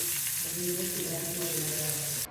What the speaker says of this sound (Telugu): ఆనియన్స్ ఫ్రై చేసుకుందాం